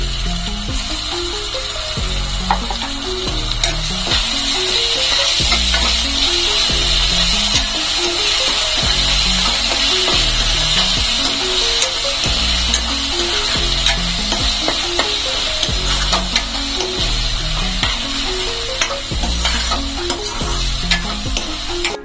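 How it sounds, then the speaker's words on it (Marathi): Browned onion with ginger garlic paste sizzles loudly in a pan while a spoon scrapes and stirs in a steady repeating rhythm, continuous and close without voices. "आता आपण त्यात 2 चमचे आलं लसूण पेस्ट जी आपण बनवली होती ती ऍड करूया आणि छान परतून घेऊया"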